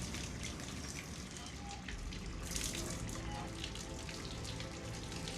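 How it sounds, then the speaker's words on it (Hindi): Water runs steadily in a Hitman 3 level, a continuous hissing splash like a tap or falling stream. A voice talks faintly over it throughout. "पानी गिरे जा रहा है।"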